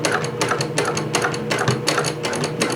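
A sewing machine stitches close to the edge of a jeans waistband for a Vogue V1895 pattern, giving a fast, steady mechanical clatter with rhythmic ticking that runs without a break.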